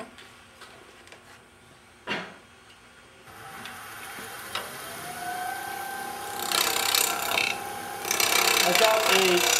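A 1/2-inch spindle gouge cuts into wood spinning on a lathe, starting with a few scattered knocks before settling into a continuous, growing scraping hiss that gets louder toward the end.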